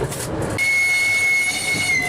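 A diesel locomotive on a 600 mm narrow-gauge district railway runs along the track, a steady loud rumble with a sustained high tonal whine, nearby and continuous.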